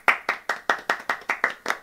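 A small group claps together in a steady, evenly spaced rhythm, about nine sharp claps in under two seconds, close and fairly loud with no voices over it.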